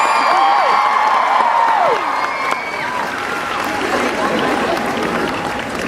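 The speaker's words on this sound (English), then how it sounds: "Let's give them both a big round of applause." Crowd applause and cheering at the opening-night event of A Celebration of Harry Potter 2016 at Universal Orlando, a broad wash of clapping that keeps going. A voice talks over it through a PA system.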